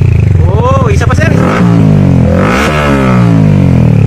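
A motorcycle fitted with a 51mm Akrapovic-style universal muffler revs up and down close by, its deep exhaust note rising and falling, while someone talks over it.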